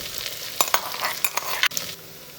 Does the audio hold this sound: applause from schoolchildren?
no